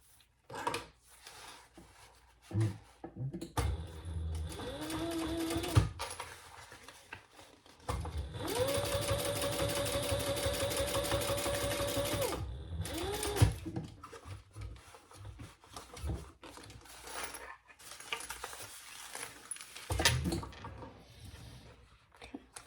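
A sewing machine top stitches the gusset of a fabric sling crossbody bag, running in two steady bursts of close, even mechanical whirring separated by quiet handling and fabric rustle.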